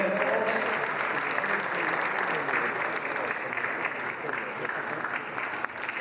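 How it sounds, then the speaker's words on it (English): Audience applause at a boxing event in Tashkent, a steady, dense wash of clapping from a large crowd that holds for about six seconds, with scattered voices faintly underneath. "Round of applause for this young man"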